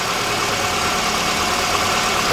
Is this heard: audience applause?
no